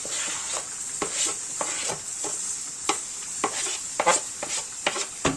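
Roasted eggplant being stirred into toasted flour in a pot, a steady sizzle under repeated scraping strokes of a spoon, close and moderately loud with no talking.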